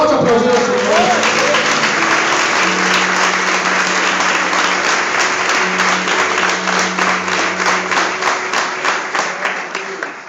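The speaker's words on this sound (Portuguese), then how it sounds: "Pode aplaudir o Senhor." A church congregation applauds the Lord during a sermon, loud, dense clapping sustained for about ten seconds over a steady low hum, thinning slightly toward the end.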